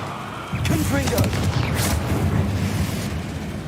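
A booming Confringo fire spell blast in Hogwarts Legacy during a fight with spiders, a heavy rumbling explosion that bursts in suddenly and lingers, with a voice talking over it.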